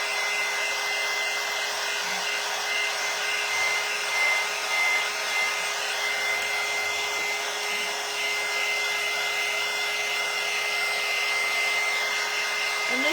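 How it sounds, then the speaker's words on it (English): A hair dryer runs steadily at close range, drying a St. Patrick's Day mailbox craft project. It gives a continuous loud whirring hiss with a constant motor hum and no pauses or talk. "So I'm going to get my dryer out after I wipe my hands."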